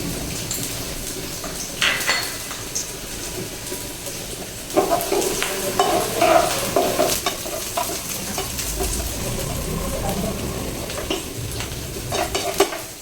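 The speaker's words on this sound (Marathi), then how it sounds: "आता या तेलामध्ये आपल्याला कांदा व्यवस्थित तळून घ्यायचा आहे." Onion frying in about four spoons of oil in a pan, a dense continuous sizzle with intermittent scraping and clinking as it is stirred, close and moderately loud.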